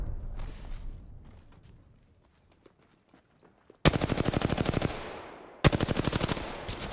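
Rapid automatic gunfire in a video game, with two long, loud, continuous bursts in the second half that follow quieter footsteps and handling noises.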